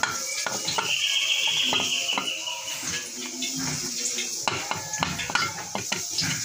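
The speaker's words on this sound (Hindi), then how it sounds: "ये प्याज हमने डाल दी है, घी गर्म करने के लिए रखा हुआ था हमने।" Chopped raw onion frying in hot ghee for a badami korma, a steady close hiss with clinks and scrapes of a spoon against the pot throughout.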